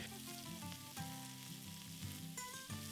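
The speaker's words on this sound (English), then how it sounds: "Place a cast iron pan over the heat. Once hot, add a little oil. Brown off the steak in batches." Steak browns in hot oil in a cast iron pan, giving a steady, even sizzle that runs throughout with music playing over it.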